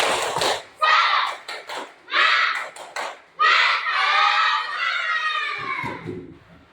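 Schoolchildren in a classroom perform a rhythmic spirit-clapping chant, bursts of group voices and claps in short patterned phrases, loud and close, ending in a longer sustained shout.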